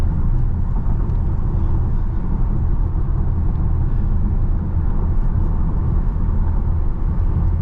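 Steady low road rumble and tire roar inside a Tesla Model Y Juniper cruising at about 70 mph on a choppy freeway, continuous and even with no voices.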